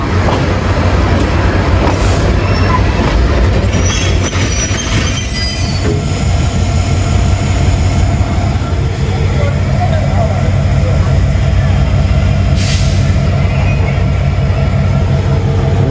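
Rangpur Express night train running through Bamondanga railway station in northern Bangladesh, heard from on board: a loud, steady rumble of wheels and carriages with occasional squeals, and voices speaking beneath it.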